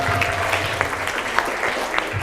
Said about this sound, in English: Give a big applause again.